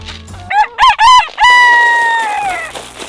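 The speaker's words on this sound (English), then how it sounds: "There's Manny, our white Moran's rooster." A white Marans rooster crows loudly and close by on a farm, a few sharp rising calls followed by a long, drawn-out final note that trails off.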